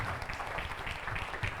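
A church congregation claps enthusiastically during a worship service, making a dense, continuous wash of applause at moderate loudness for the whole brief stretch.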